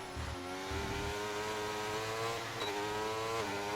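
A McLaren race car in a racing video game roars down a straight, its engine holding a steady high-pitched drone with a brief shift midway, loud and alone with no talk.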